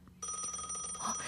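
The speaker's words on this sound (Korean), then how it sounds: "신우한테 전화 왔는데 갑자기 무슨 일이지" A mobile phone rings with an incoming call, a steady electronic ringtone that starts suddenly and continues over quiet room ambience.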